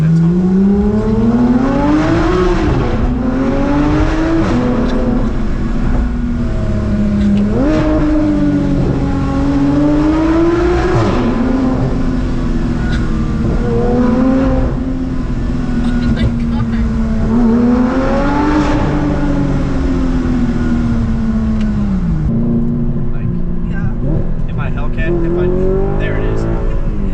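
A sports car's engine revs and accelerates repeatedly inside a tunnel, loud and echoing, with pitch climbing through gears, dropping on shifts, and climbing again over nearly half a minute; people speak intermittently over it.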